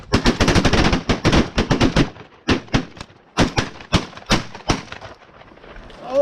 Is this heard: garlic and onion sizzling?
no